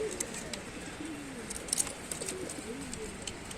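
Domestic pigeons in a loft in Tanta, Egypt, give repeated soft, low coos close by, overlapping with a few brief chirps and light rustling.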